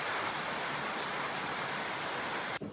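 Rain falls steadily near the Grahan waterfall, a dense even patter and hiss that holds constant and then cuts off abruptly at the end.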